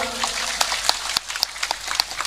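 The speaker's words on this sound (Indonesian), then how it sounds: "tepuk tangan dulu dong" Brief scattered clapping from a small group at a public religious lecture in Banyuasin Regency, irregular claps over a murmuring background, fairly close.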